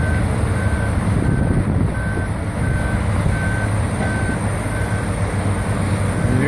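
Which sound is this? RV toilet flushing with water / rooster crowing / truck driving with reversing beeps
truck driving with reversing beeps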